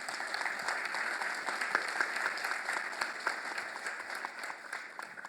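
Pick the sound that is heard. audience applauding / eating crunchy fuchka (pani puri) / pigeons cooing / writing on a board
audience applauding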